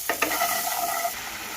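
Ginger and chopped tomato being stir-fried in a pan, a loud sizzle with a couple of quick scraping stirs at the start, then the hiss settling over the short moment.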